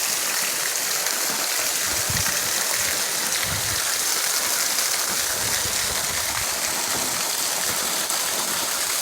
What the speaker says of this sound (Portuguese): Muita chuva, gente, muita.